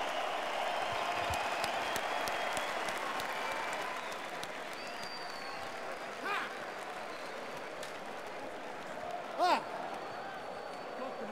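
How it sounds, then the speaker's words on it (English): A happy arena crowd cheers and applauds after a UFC fight win by TKO at Fight Night London. The roar stays dense and fairly distant throughout, with a few sharper shouts rising out of it. "there's a very happy crowd out there right now for Alexander Gustafsson"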